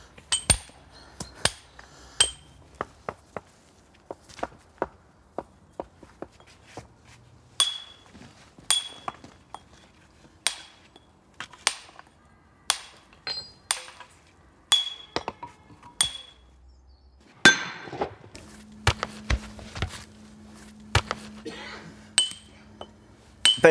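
Hammer and chisel strike old weathered natural stone for a raised garden bed, a long series of sharp metallic clinks in irregular rhythm, close and crisp, with a low hum partway through.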